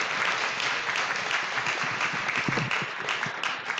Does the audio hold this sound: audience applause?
yes